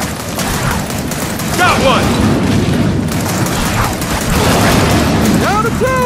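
Gunfire rattles through a tense Gears of War 4 fight as weapons shoot at webbing, a loud dense wash of shots and mechanical booms with characters shouting over the din throughout.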